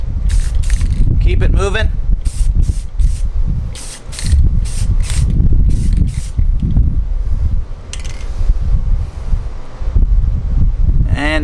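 Aerosol spray can applying light coats of primer to a custom Funko Soda figure, giving repeated short hissing bursts close to the mic, while a person talks over and between the sprays.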